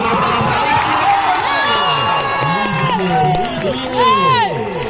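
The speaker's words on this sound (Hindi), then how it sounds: "एक बार जोरदार तालियां बजा दें तमाम लोग खिलाड़ियों की" A crowd at a sports final between Jamdaha and Manikala cheers and shouts, with children's voices rising over a dense, lively roar and a loudspeaker voice calling out over it throughout.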